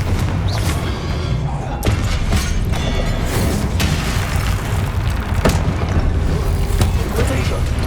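Repeated booming blasts from the Confringo fire spell in Hogwarts Legacy hit statues, several sharp explosive thuds in a row over game ambience, with a voice shouting the spell name.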